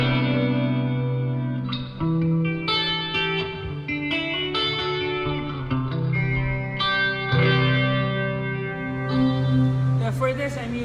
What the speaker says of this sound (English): I'm using a jazz chorus type amp model with a bit of delay and spring reverb